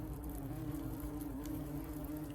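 European hornets buzz at their nest in a garden shed, a close, steady droning hum that holds level without pause.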